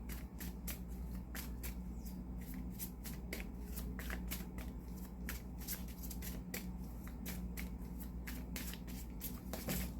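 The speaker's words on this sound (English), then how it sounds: "Let me shuffle the deck one more time, you guys." A deck of playing cards is shuffled repeatedly during a tarot-style reading, with crisp riffling bursts and rapid flicks coming close and steady over a low background hum, with no talking.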